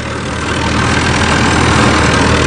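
An HMT tractor engine drives a 7-foot Punni super seeder in second gear, a loud, steady mechanical roar with a dense low rumble and constant churning, unbroken throughout and close up.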